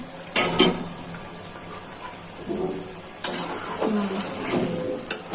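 Brinjal being sautéed with spices in a pan: a soft, steady sizzle broken by several sharp clinks and scrapes of a spoon or spatula against the pan, with a lid set down near the end.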